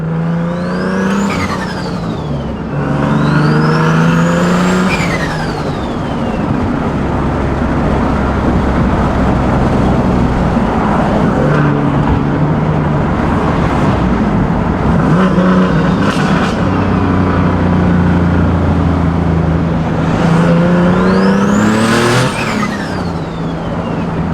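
A car engine with a T51R turbocharger revs hard and repeatedly, with rising whistling turbo spool sweeping up over the roaring exhaust, loud and close throughout.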